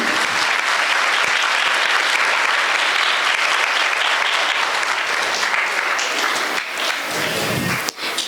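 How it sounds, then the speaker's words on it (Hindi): An audience at a children's program claps enthusiastically, sustained loud applause from a crowd that carries on for several seconds before tapering off near the end. "बच्चों का उत्साहवर्धन के लिए खूब जोर से उनका तालियों से"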